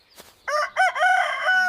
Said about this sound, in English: With a cock-a-doodle-doo here and a cock-a-doodle-doo there.